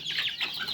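Fayoumi chickens on a small farm give a brief, close burst of clucking, a couple of quick nasal calls with no speech over them.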